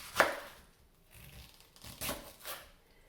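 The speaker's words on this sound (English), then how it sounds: "Just chop this up as good as I can." Leftover cabbage and celery are chopped on a board for soup, a few separate knife thuds and crunchy cuts spaced irregularly, close but fairly quiet.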